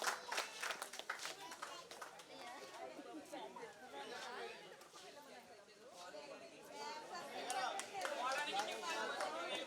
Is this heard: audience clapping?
yes